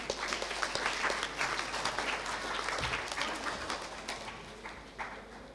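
An audience applauds a child naat reciter at a kids' naat competition, a steady moderate patter of clapping with a low hum beneath, fading gradually toward the end.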